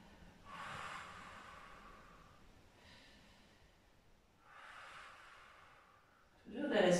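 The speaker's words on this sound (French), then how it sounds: "Toujours des respirations longues et profondes." Long, deep breaths during a yoga stretching session for the lower back, three slow breathy exhalations spaced a couple of seconds apart, quiet and close, followed by a brief louder rustle at the end.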